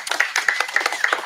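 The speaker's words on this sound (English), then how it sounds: "So give them a round of applause" Clapping from a fringe festival audience, a short burst of distinct hand claps in a quick, uneven rhythm, close and fairly loud.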